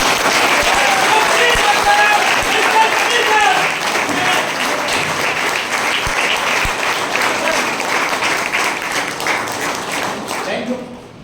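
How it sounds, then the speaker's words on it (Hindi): A large audience gives loud, sustained applause at a motivational training event. Dense clapping fills the whole stretch, holding steady and then easing off toward the end. "उनके सम्मान में जोरदार तालियां, और जोरदार तालियां ऐसी होनी चाहिए"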